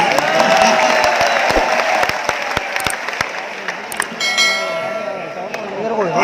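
Scattered, sparse handclaps from the audience at an all-India mushaira at the Saharanpur fair, sharp individual claps over a loud, reverberant hall with tonal sound and murmuring voices.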